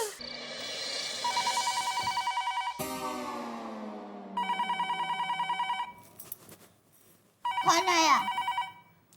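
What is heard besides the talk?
telephone ringing late at night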